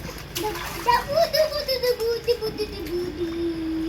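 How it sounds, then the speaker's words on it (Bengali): A small child splashes water in a bathtub, quick irregular splatters close by, mixed with a voice and an adult talking over them. "জোরে জোরে জলটা ঝাঁপাইছো"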